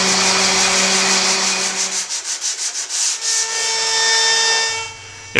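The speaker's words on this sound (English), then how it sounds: "A lot of sanding." Sanding wooden crib parts: a steady, loud abrasive rubbing that briefly turns into rapid rhythmic back-and-forth strokes before smoothing out and then stopping, with a motor-like hum underneath.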